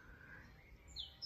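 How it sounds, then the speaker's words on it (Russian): Birds sing in a quiet Bulgarian village, Skalsko, with a few faint, brief high chirps near the end over a soft, still background. "вы слышите это пение птиц, эту тишину."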